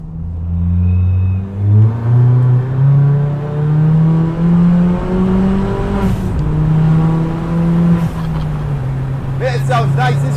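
An engine-swapped 350bhp Ford Fiesta ST work van revs from the cabin, its low rumbling engine note rising and falling in pitch as it accelerates. A voice talks over it throughout.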